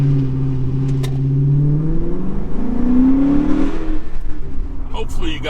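A Chrysler 300 on launch control revs its engine loudly, the note rising and swelling over several seconds before easing off, with a person talking briefly near the end.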